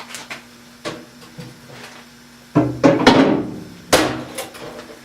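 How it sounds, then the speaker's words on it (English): Several sharp metallic knocks from a small hammer knocking a taper lock hub loose, spaced irregularly, with a cluster of louder strikes near the end, close by. "Need a little hammer to knock it loose"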